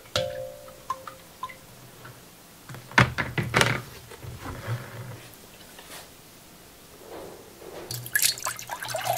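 Graphite-based conductive ink is poured out in scattered drips and liquid splashes, with a few knocks and thunks from the container in between. The sounds are fairly close and moderately loud over a quiet background, and there is no talk.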